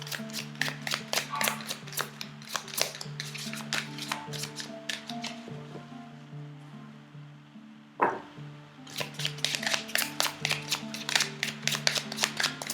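Oracle cards being shuffled and drawn give rapid, dense papery flicks and taps, close and fairly soft, over a background hum, pausing briefly with a single thump before the quick riffling resumes.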